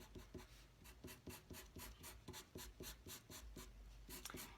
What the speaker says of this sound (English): So we're cross-hatching.